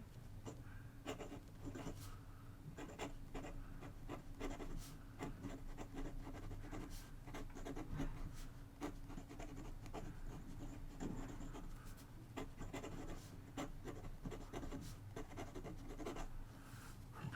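A Hong Dian M1 fountain pen scratches across paper in steady, close strokes, a continuous faint rasping with small scrapes, over a low background hum.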